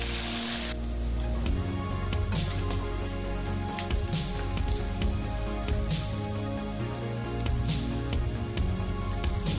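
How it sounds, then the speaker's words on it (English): Beef frying in a pan gives a steady crackling, popping sizzle with scattered sharp spits of fat, close and continuous without talk. "I'm now going to fry this beef."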